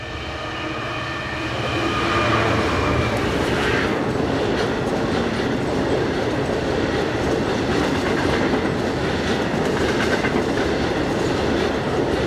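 Class 66 diesel locomotive 66143 hauls a train of empty freight wagons from Scunthorpe to Immingham, its rumble swelling as it nears and then holding in a steady, loud roar with rhythmic wheel clatter.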